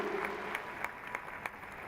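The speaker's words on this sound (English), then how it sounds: "Let's give us a round of applause." A university audience gives a round of applause, a soft, fairly distant wash of clapping with a few sharper individual claps standing out, steady for a couple of seconds.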